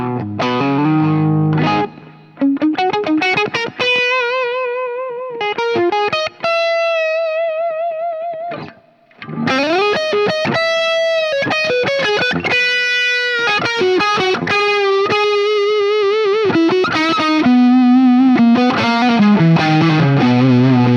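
An electric guitar played through a Boss SD-1 overdrive pedal, with a reverb pedal in the chain, rings out in loud, continuously driven chords and melodic phrases with sustained notes and no talking.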